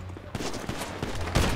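Gunfire in a GTA 5 roleplay shootout: several loud, sharp shots burst out in an irregular volley, close and dense, with no one talking over them.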